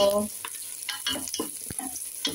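Onion, garlic and ginger sautéing in a pan for chicken tinola, with soft sizzling and scraping stir strokes, brief and close.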